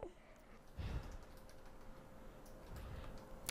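Rapid typing on a computer keyboard: a fairly faint, quick patter of key clicks over a steady background hum, with no voices.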